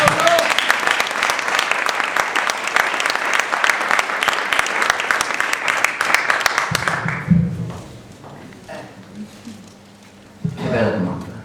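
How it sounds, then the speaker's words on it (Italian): Audience applause at a live event in Schio, Vicenza, loud dense clapping for several seconds that cuts off abruptly, followed by quieter room sound and brief talk. "Un applauso anche a Diego."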